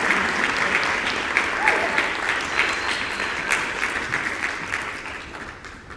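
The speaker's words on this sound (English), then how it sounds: "Keep clapping." Sustained applause from an audience at a university music convocation, a busy stream of clapping with faint voices underneath, slowly tapering off.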